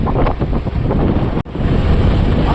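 Strong storm wind at sea buffets and roars against the microphone on a fishing boat in continuous loud gusts, with a brief dropout partway through.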